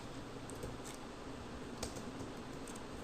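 Steady keyboard typing while writing Django template code for a student management system login page, a continuous soft patter of keystrokes with a few sharper clicks, close and alone.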